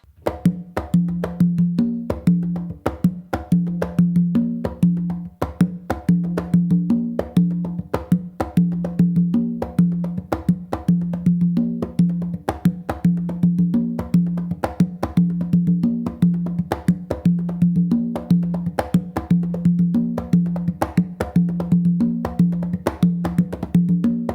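Congas playing a full guaguanco exercise, a steady unbroken run of close, resonant hand strikes in a looping syncopated pattern that lasts over twenty seconds with no talking.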